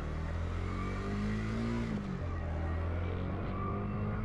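A Honda Winner X motorcycle engine drones steadily nearby, its pitch rising gently and then dropping back to a lower hum.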